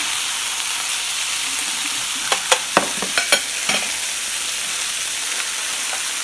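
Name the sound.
capers frying in olive oil in a pan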